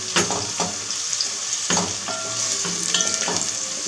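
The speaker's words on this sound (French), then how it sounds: "on fait bien suer notre oignon" Chopped onion sizzles and fries in a pan for a fish stew, a steady close crackle with occasional stirring scrapes and clinks throughout, no voices.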